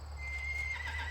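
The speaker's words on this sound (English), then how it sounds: "My horse will move over." A horse being ridden and neck-reined gives a short, close whinny over soft hoof steps.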